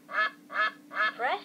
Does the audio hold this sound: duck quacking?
yes